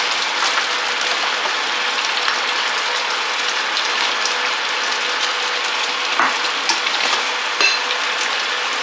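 Ogbono soup with plenty of crayfish being stirred in a pot, a steady scraping and bubbling wash throughout with a few sharper clicks of the spoon against the pot near the end, close and alone.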